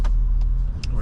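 A hotshot truck backs slowly down a street in South Phoenix on a rainy day, giving a brief, steady low engine rumble close by while a person talks over it.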